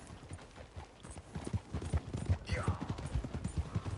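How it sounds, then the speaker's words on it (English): Hooves clip-clop in a quickening rhythm as horses approach in the video game Red Dead Redemption 2, with a faint whinny, under low background voices. "You see that like our horses just ran up?"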